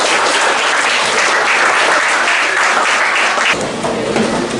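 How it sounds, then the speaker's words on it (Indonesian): Children in a classroom break into loud, vigorous applause during a lesson, a thick burst of clapping that holds strong and then eases slightly near the end, with no talking over it. "Oke, tepuk tangan sebenarnya."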